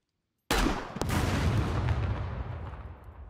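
A single heavy blast from a grenade launcher in the game SCUM, a sharp close boom followed by a second crack and a long rumbling decay that fades out over a few seconds.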